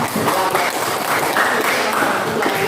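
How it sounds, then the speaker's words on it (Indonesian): Applause from an audience during an Islamic lecture or teacher training session, a steady dense patter of clapping that lasts throughout without a break. "Oke, berikan aplaus dulu."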